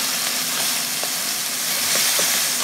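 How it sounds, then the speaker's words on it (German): Chicken livers sizzle steadily in hot olive oil in a pan, a close, continuous frying hiss with faint pops and no talk. "Hühnerleber melieren und in Olivenöl anbraten"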